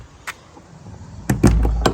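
A Gore side-ramp bumper-pull trailer door is pushed back, giving a few sharp metallic knocks and a heavier thud close by after a faint early click.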